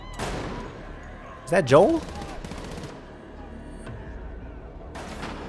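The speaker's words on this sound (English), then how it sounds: "Wait, who are they shooting at?" Gunfire from a scene in The Last of Us TV series, a burst of shots under excited reaction talk, with a loud cluster of sharp bangs near the middle.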